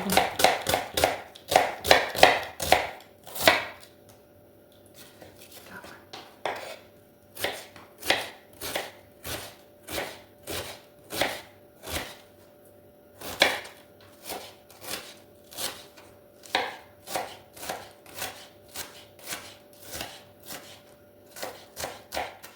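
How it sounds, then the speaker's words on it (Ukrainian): A knife taps rapidly and repeatedly against a cutting board as an onion is chopped very finely, quick bursts with short pauses between runs, close and clear. "Цибулю ріжу дуже міленько."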